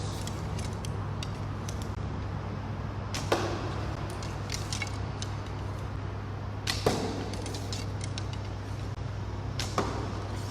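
Arrows shot from a bow during tactical archery practice: several sharp snapping releases with brief swishes at uneven intervals over a constant low hum and rustle, fairly near, with no talking.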